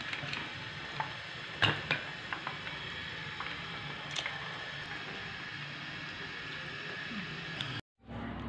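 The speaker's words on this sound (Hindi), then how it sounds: "दूसरे चिकन को भी हम इसी तरह फ्राई करेंगे।" Chicken pakora frying in hot oil gives a steady, moderate sizzle with a few sharper pops and clinks near the start, continuous until a brief drop to silence near the end.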